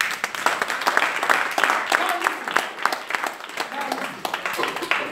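Congregation clapping during an all-night prophetic church service, sharp hand claps arriving in quick uneven bursts mixed with voices calling out over them.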